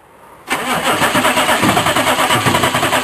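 A diesel dually truck cranks over and catches after half a second of near silence, then settles into a loud, close, pulsing idle.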